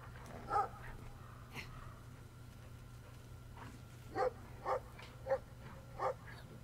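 A dog in Brothers: A Tale of Two Sons gives several short barks, one early and then four spaced evenly near the end, over a low steady game hum.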